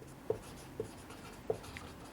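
Faint, sparse tapping and scratching of chalk or marker writing on a board during a civil engineering lecture, three soft taps spread across a quiet room.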